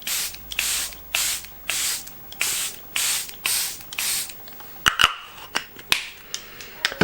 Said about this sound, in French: Je vais utiliser mon Charlotte Tilbury Airbrush Flawless Setting Spray.